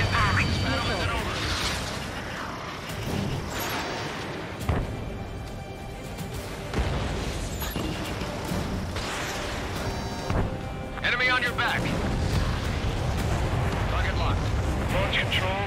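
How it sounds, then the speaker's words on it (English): Bombing run explosions in the Ace Combat 7 flight combat video game, a dense barrage of repeated booming blasts and crashes layered over game audio, loud and continuous for the whole stretch. "Begin bombing."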